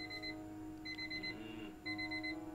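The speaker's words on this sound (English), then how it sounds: "The same alarm tone that Harry can sleep through" Alarm clock tone ringing in the video game Fragments of Him, three short repeated beeping bursts in a steady pattern over a low hum, with no one talking.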